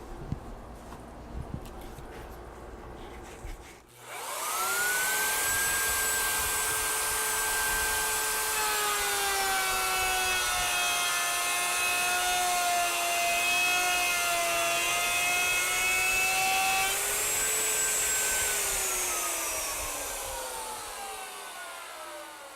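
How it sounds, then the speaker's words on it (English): Router cutting a groove in wood with an SSRK jig: a loud, steady whining roar that starts abruptly after a few seconds of quiet, holds with slowly shifting pitch, then winds down near the end. "we're ready to go to route the next groove"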